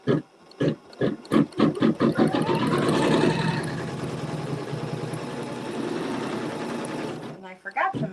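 A sewing machine quilts stitches over wool, first in a run of quick separate bursts, then in one long steady whir that stops abruptly before a few more short pulses.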